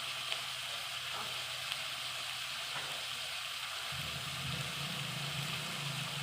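Eggplant roasting in oil on a traditional stove makes a steady, close sizzle and crackle, with a low rumbling layer that rises partway through.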